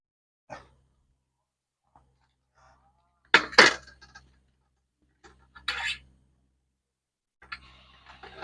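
A grilled black pomfret is lifted from the stove into a dish: a few sparse clicks, knocks and short scrapes from close by, separated by quiet gaps.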